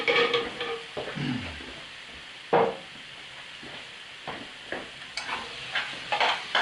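A tomato curry base simmers and sizzles quietly in a pan while a spoon occasionally scrapes and knocks against it in sparse, uneven strokes, close up with no talk.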